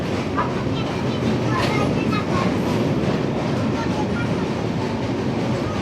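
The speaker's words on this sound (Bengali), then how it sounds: "10টা 32-এ ট্রেন এসে থামলো কাশী রেলওয়ে স্টেশনে" Steady, loud rumble of the Doon Express train arriving at Kashi railway station, with rail noise throughout, a continuous roar with faint clatter and no clear pauses.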